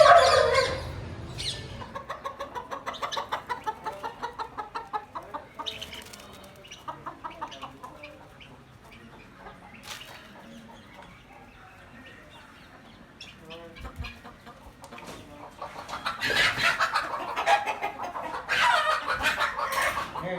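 Flock of farm chickens clucking near and far across a yard while a young Rottweiler puppy guards them, with scattered cackles, a rooster's crow and louder bursts of calls toward the end.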